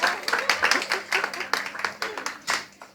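Audience clapping in response to a speech, a dense run of hand claps with uneven bursts, fairly close and steady for the whole stretch.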